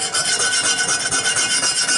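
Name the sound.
small chisel scraping rust off cast iron pan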